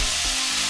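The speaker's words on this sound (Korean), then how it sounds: "고기 삼겹살 저거 갖다 구워" Pork belly sizzles as it fries in a pan, a short, steady hiss of hot fat crackling close up.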